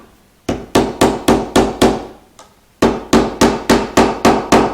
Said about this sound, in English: I use one of these dead blow hammers, but you can use a nylon hammer just as well.